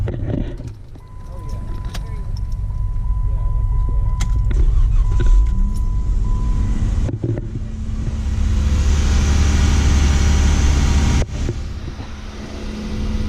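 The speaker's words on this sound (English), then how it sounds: "Engine started." A vehicle engine, started after its battery was charged by a portable solar blanket on a remote Utah trip, turns over around seven seconds in and settles into a steady loud rumble, with talk heard earlier over cabin noise.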